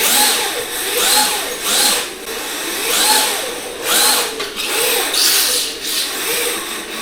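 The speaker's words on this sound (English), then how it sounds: "it's a different sound when it hits turbo and boost." An RC drift car motor on a Furitek Slidetech Pro drift ESC hits turbo and boost, making a loud buzzing, whirring electric whine that rises and falls in repeated surges about once a second, heard up close without speech.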